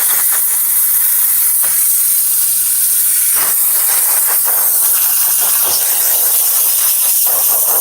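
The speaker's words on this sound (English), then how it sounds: "I always hold the steamer from far away. I don't want to point it directly into the material." Steam cleaner hissing steadily and loudly while detailing a Toyota Highlander, a broad continuous rush with a few brief dips and bursts as the nozzle moves, with no talking.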